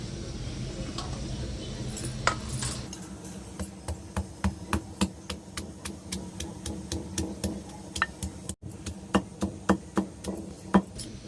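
Onion chutney pounded with a pestle, a rhythmic series of sharp, close thuds repeating roughly twice per second after a brief stretch of softer handling noise.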